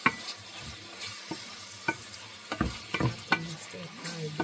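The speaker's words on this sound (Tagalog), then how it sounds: "stir fry broccoli" Broccoli stir-fried in a pan for a family lunch: scattered scraping clacks of a utensil against the pan over a steady low sizzle, with several sharper stirring knocks toward the end.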